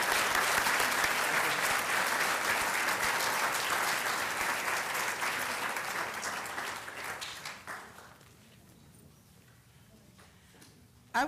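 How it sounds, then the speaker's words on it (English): Audience applause at a nursing white coat ceremony for graduate and postmaster students, a dense, steady round of clapping that fills the hall and gradually thins out, ending in near quiet. "Let's give the graduate and postmaster students a round of applause."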